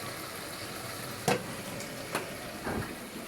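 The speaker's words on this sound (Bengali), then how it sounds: "শুটকি দিয়া শুটকি বাগার দিচ্ছে" Dried fish sizzles in hot oil as it is tempered for a dried fish curry, the paste ground on a grinding stone. A steady close hiss is broken by a few sharp stirring scrapes.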